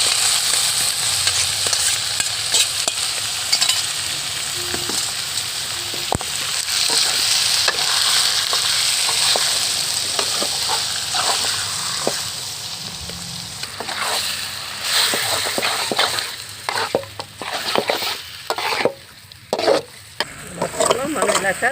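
Mutton masala with freshly added ginger paste and chilli powder fries in hot oil for a drumstick mutton curry, giving a steady loud sizzle with repeated scraping stirs throughout.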